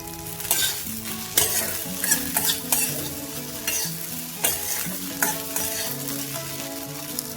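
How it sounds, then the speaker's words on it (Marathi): Sabudana (sago) is stirred and fried in a pan over high flame. Steady close sizzling runs under repeated scraping spatula strokes, with no voices. "आता ह्याला मोठ्या गॅसवर 2 मिनिटं हलवून घेऊन ह्याला कमी आचेवर 5 मिनिटं झाकून ठेवू."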